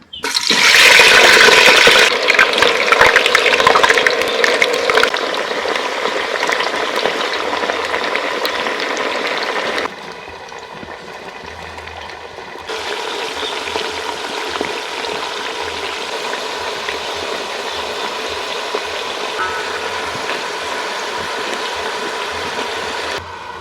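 A loud, steady hiss of potatoes frying in hot oil starts abruptly and keeps sizzling continuously, dropping somewhat quieter partway through.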